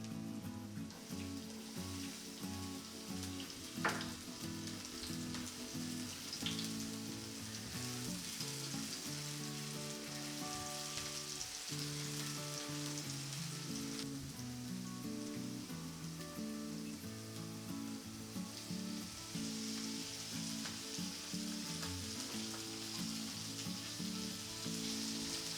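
Garlic and chili sizzle steadily in medium-hot olive oil for prawns, a dense continuous crackle with faint background music-like tones and no talk.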